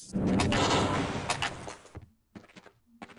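Video game gunfire during a live fire exercise: a dense, loud burst of rapid shots for about two seconds, then a few scattered, quieter shots and clicks.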